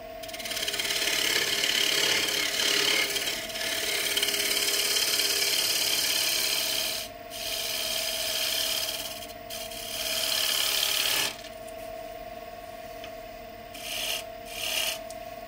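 Scraper shaving a spinning wood piece on a lathe to smooth it, a loud, continuous close rasping rub over the motor's steady hum, with a few brief breaks where the tool lifts off.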